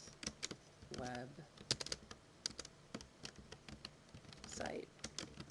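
Typing on a computer keyboard: clusters of light, rapid key clicks and taps up close, with soft speech in between.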